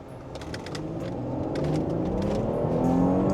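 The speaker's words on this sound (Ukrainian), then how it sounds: "Зараз просто газ підлогу на спорті, червоне світло." A 300-horsepower Lincoln Continental at full throttle in sport mode during a 0-100 run, its engine note rising steadily as it accelerates, heard from inside the cabin with no talk.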